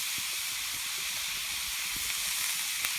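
Spring roll filling frying in a pan, with a steady broadband sizzle and hiss and faint crackles and pops underneath, continuous and close.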